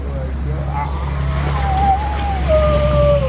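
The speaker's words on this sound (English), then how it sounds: "See the car coming towards me." A car approaches with a loud, steady engine drone whose whine climbs in pitch as it draws nearer, over a constant low rumble.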